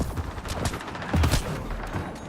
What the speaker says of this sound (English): Just keep firing, we can do this!